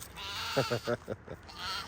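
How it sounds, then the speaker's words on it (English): Goats bleat in a quick run of four or five wavering cries close by, fairly loud against a quiet background hiss, with no talking. "My goats are something else, man. They get that yelling once they see me."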